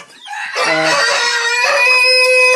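A rooster crows loudly and close, a long drawn-out call, with hens clucking around it.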